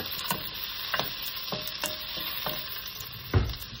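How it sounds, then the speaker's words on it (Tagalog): Onions, ginger and garlic sautéing in hot fat, a steady sizzle broken by regular scraping strokes of a stirring utensil, close and moderately loud with no talking. "Hinalo ko na lahat dyan kasi mainit na yung fat."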